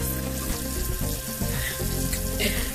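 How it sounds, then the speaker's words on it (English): Vegetables get washed under a running kitchen tap, a steady rush of water with splashing as they are handled, close and fairly loud. "we're just cleaning the vegetables"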